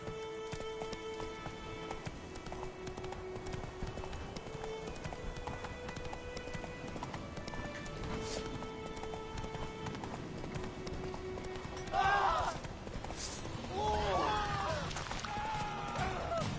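Hoofbeats of the horse Roach in The Witcher 3 run steadily throughout over game music, with a louder burst of activity near the end.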